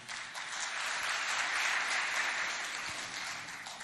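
An audience at a book dedication ceremony bursts into sustained applause, a dense, even wash of many hands clapping that holds steady for a few seconds without any voices.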